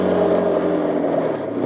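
A motor scooter climbs a steep, rocky mountain road in first gear near the Argentina–Chile border crossing, its engine revving loud and steady close up without any pause.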